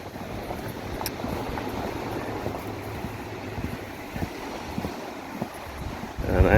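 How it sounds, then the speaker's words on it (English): Blustery wind at a beach by a boardwalk, a steady roar of gusts buffeting the microphone with surf-like wash beneath, rising louder at the end. "It's a little bit blustery today"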